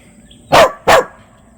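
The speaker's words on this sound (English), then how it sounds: "except when Katie's out here barking" A dog gives two sharp, loud barks about half a second apart on a farmhouse porch, close by, with quiet before and after.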